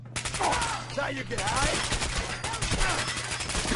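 Rapid bursts of custom AK rifle fire in Fallout 4, loud and close, with dense repeated cracks running through most of the moment while a voice speaks briefly over the shooting.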